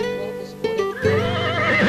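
An animated horse gives a loud, close whinny, a single rising and wavering neigh that fills the short moment alone, with no speech over it.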